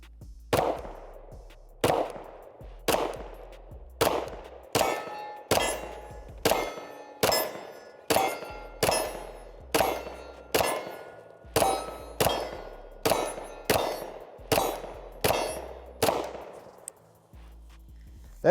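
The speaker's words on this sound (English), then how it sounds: "Let's get those first shots out of our AXG Flux Legion." A Sig AXG Flux Legion pistol fired at an outdoor range, about twenty loud, sharp shots in a steady rhythm roughly one per second, each crack ringing briefly with a metallic echo before the next.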